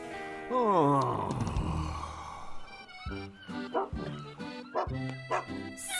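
A cartoon dog in a children's animated firefighter series gives a short bark and yelps near the start, and then cartoon characters talk with music over it.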